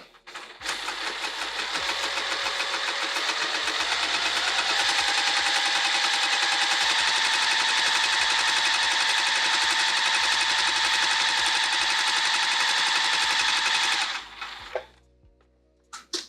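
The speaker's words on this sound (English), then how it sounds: "then sew the other half of the length and do the same" A Juki sewing machine stitches a bag in one steady, close, loud whirring run with rapid mechanical ticking, lasting about fourteen seconds before winding down and stopping.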